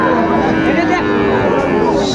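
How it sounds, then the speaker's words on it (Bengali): A young Sahiwal bull calf moos loudly and close at a cattle market, one sustained low call over market noise, with someone talking nearby. "এই যে ষাঁড়, শাহিওয়াল, শাহিওয়াল"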